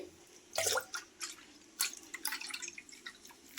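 Half a litre of milk is poured into a pan, producing soft, close liquid splashes and drips in a few uneven bursts at fairly low volume.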